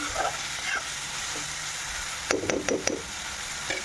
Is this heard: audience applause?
no